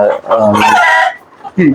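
A chicken on a poultry farm lets out loud, close clucking calls in two quick bursts separated by a short pause, with no people talking.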